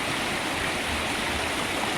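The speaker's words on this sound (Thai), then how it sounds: "เป็นน้ำตกที่ใสมากนะครับ" Khiri Wong waterfall in a village in Lan Saka, Thailand, rushing with a steady, dense roar of flowing water, close and continuous with no voices.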